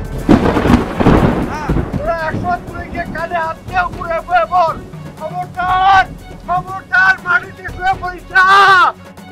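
Deep rumbling thunder from a lightning storm over paddy fields opens loud, then a voice talks over the fading storm noise with wind buffeting the microphone.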